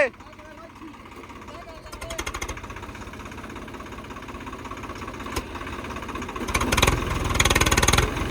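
A tractor engine runs steadily in a maize field, a low rumble that builds and grows louder toward the end, with voices faintly underneath.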